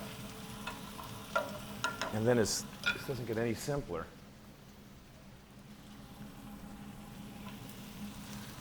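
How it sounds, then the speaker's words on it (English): Shredded cabbage sizzles and crackles softly in a hot pan, a faint steady frying hiss that continues after someone speaks briefly over the first few seconds. "Now I'm going to go in with my cabbage, and you can see, you can hear that little sizzling sound."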